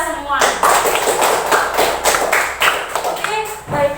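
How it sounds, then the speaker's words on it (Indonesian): A class of children in an Indonesian primary school applauding, with several bursts of quick, close clapping mixed with voices and chatter across the room. "Tepuk tangan untuk kita semua."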